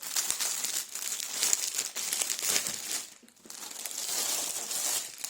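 Plastic packaging crinkles and crackles continuously while a parcel is unwrapped, loud and close, with a short pause in the middle before the rustling resumes.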